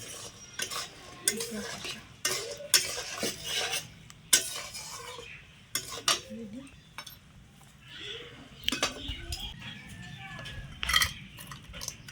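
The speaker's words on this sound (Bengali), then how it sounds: "গরম মশলা দেওয়ার পর একটু বেশ জাস্ট নাড়িয়ে চাড়িয়ে একটু ব্যাস নামিয়ে নিলেই রেডি।" A spoon scrapes and clinks against a pot as crab curry with garam masala is stirred, in repeated short strokes, under a faint sizzle and intermittent talk.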